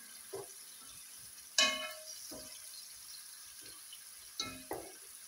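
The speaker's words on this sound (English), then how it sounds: "I'm just frying my onion." Onions fry quietly in oil in a pan while preparing Kenyan fried omena, a faint steady sizzle beneath scattered clinks and knocks of a utensil stirring, with no talking.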